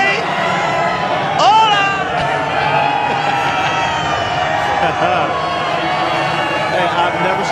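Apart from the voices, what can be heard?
baseball stadium crowd cheering for Pedro Martinez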